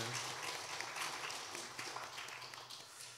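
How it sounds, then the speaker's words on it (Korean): Church congregation applauding in encouragement, a steady wash of many hands clapping at moderate, fairly distant level without pause. "우리 서로를 위해서 격려의 박수 한번 하겠습니다."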